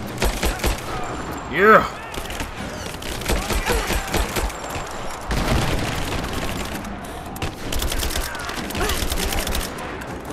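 Gunfire and blasts from the final boss fight of Rise of the Tomb Raider, a busy stretch of rapid shots and heavy booms mixed with game noise, with someone speaking briefly over the action.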